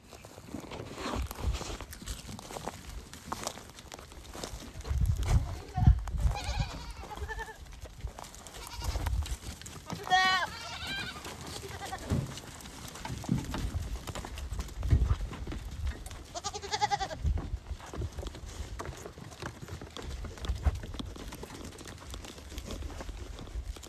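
Long-eared Nubian goats on a farm bleat several times, with a few distinct calls standing out over constant shuffling hooves and footsteps as someone walks among the herd, with no talking.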